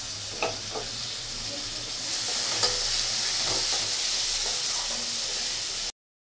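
Spice masala with turmeric, chili powder and chopped tomato sizzling steadily as it is sautéed in a pan for a spicy potato curry, with a constant close hiss and occasional scrape of stirring.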